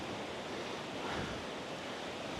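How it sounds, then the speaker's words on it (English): Water pours over the edge of a waterfall in Krka National Park, Croatia, as a loud, unbroken broadband rush that holds steady and close for the whole stretch, with no voices over it. "You can see like the waterfall is coming down all around us, and then just kind of straight over the edge."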